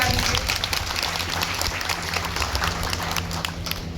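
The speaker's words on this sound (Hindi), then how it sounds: "इनकी प्रस्तुति के लिए इन्हें प्रोत्साहित करने के लिए एक बार जोरदार तालियां बजा दीजिए" An audience claps steadily for a children's performance at a devotional gathering, producing continuous, moderately loud applause over a low background hum, with no talking.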